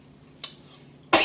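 A single close, loud cough bursts out near the end, after a short faint throat sound, in a podcast studio setting.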